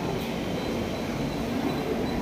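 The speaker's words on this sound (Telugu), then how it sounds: "ఒక లోకల్ ట్రైన్స్ వచ్చేస్తుందండి" A Mumbai local commuter train rumbles steadily close by, a continuous broad roar with no voices.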